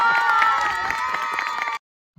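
A crowd applauds and cheers steadily at close range, a dense wash of clapping that holds for under two seconds and then cuts off abruptly into silence.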